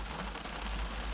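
Rain falling at a Manchester United versus Young Boys Champions League football match at Old Trafford, a soft steady hiss with a low rumble underneath, brief and even, no voices.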